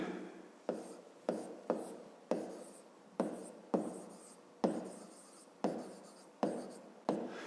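Pen strokes on paper during a Ukrainian fifth-grade maths lesson, about a dozen distinct scratchy writing bursts in steady rhythm, close and clear with no talk.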